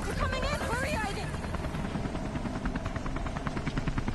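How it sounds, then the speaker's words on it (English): Helicopter rotor and engine in the video game Beyond: Two Souls, a loud steady whine and chop running throughout, with excited voices talking over it at the start. "How to control a helicopter."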